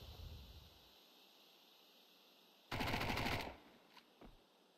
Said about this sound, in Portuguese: Tem muito tiro.